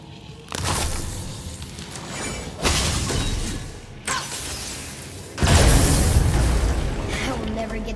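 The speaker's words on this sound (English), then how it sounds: "I will never get tired of shattering things with this." Objects shattering in God of War, a series of loud crashing breaks and booming impacts, four heavy bursts in quick succession, each followed by rumbling debris, the last the largest and longest.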